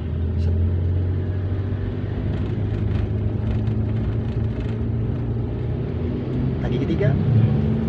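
A manual car's engine runs steadily throughout a driving lesson, a low continuous rumble that swells slightly near the end as the driver presses the gas, with brief talk over it.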